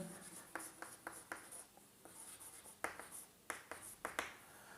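Faint scratchy strokes and light taps of writing on a board during a plant physiology lecture, coming in short irregular bursts with pauses between them, with no one speaking.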